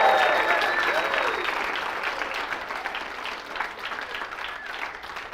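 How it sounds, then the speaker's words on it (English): An audience at a university speech showcase claps steadily in sustained applause, with a few whistles early on, slowly tapering off. "Let's give one more big round of applause and some whoop whoop to our speakers"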